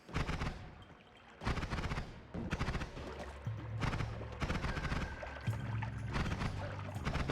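Gunfire in the 2D game Noita comes in repeated bursts of rapid, crackling shots separated by short pauses, over a low game hum, with no voices.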